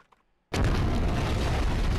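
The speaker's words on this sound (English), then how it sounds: "An explosion of darkness overtook me, and I was unable to see anything." A sudden loud explosion in the Danganronpa 2 game bursts in after a near-silent moment and keeps roaring as a sustained, rumbling blast.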